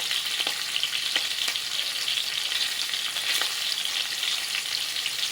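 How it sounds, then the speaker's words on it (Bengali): Hilsa fish fries in hot oil for a mustard hilsa dish, making a loud, steady, even sizzle close up with a few soft pops and no talking. "তো মাছটা ভাজা হোক"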